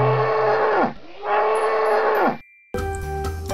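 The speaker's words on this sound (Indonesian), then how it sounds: "yang ini namanya kerbau" A water buffalo from the video game Jurassic World Evolution 2 gives two long, loud, close moos. A short silence follows, then other game sounds.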